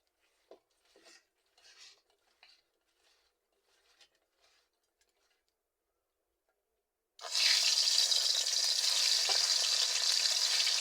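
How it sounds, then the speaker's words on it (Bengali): Puti fish coated in salt and turmeric hitting hot oil in a wok and frying lightly, a sudden loud steady sizzle bursting in after several seconds of faint scattered kitchen clatter and continuing unbroken to the end. "মাছটা আমি বেশি ভাজবো না, একটু কড়াও করবো না, মাছটা আমি হালকা ভাজবো।"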